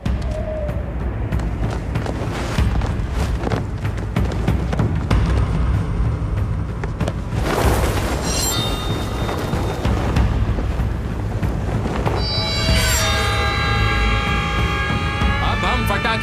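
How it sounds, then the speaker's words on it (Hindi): Firecrackers bursting at a wedding celebration welcoming newlyweds: a loud, continuous rumbling barrage with sharper bursts, later joined by high whistling and musical tones. "पटाखे जला के उनका स्वागत करते हैं।"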